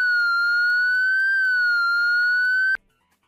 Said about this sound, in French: la sonnerie de la sirène extérieure pendant 90 secondes